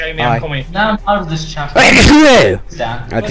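A single loud sneeze bursts out in the middle of casual talk between people playing the F1 2010 racing game, with speech before and after it.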